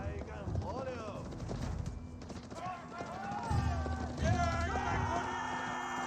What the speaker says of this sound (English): Got more horsemen charging forward as well.